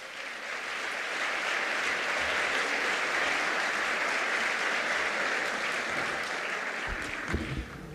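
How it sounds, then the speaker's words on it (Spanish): Dense, loud applause from a large audience at a political event in Bolivia, building quickly and holding steady for several seconds before tapering off at the end. "Fuerte el aplauso."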